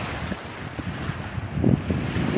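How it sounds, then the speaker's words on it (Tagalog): Blustery seaside wind on the Kuwait coast, roaring across the microphone with waves rolling underneath, loud and steady, swelling toward the end, with no talk. "Dito po tayo ngayon sa tabing dagat."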